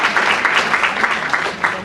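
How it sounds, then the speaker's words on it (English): An audience at a student competition evening claps for the student finalists, a dense and steady round of applause that stays even and close for the whole short stretch. "let's give a round of applause to our finalists"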